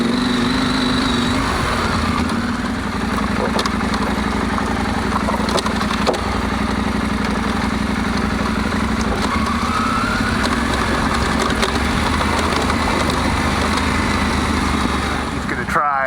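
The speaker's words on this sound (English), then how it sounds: "Bike sounds really good." A motorcycle engine idles steadily and loudly at close range for the whole stretch, a constant mechanical drone with people talking over it.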